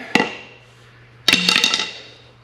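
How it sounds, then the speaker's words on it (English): Sharp metal hammer strikes on a Chevy 292 cylinder head: one single ringing blow, then a quick burst of several rapid hits about a second later, close and loud in an otherwise quiet shop. "Hammering on a cylinder head because I left a bolt in."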